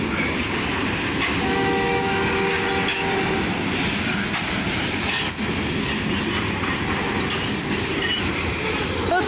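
Canadian National 8806 freight train, with Norfolk Southern 9121 at the rear, rumbles past loudly at a crossing in Effingham, Illinois, sounding a sustained horn blast early on over continuous wheel and rail roar.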